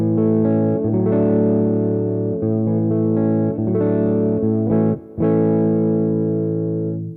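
Electric guitar played through the clean channel of a Boss Katana Generation 3 100-watt 1x12 combo with no pedal and a touch of reverb. Loud, close, sustained chords ring out with a short gap near the end.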